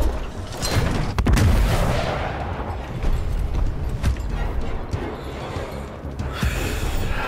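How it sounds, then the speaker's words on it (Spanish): Rocket explosions in Gears Tactics, a series of heavy booming blasts with a sharp, loud hit near the second mark, then continuing rumbling detonations and battle noise throughout. "¡Cohetes! ¡Aléjense!"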